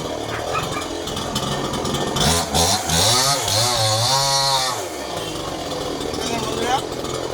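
A chainsaw cutting wood runs loudly and continuously. Its engine pitch rises and bogs down as it bites into the cut, then settles back to a steady high whine, with a voice talking in the background.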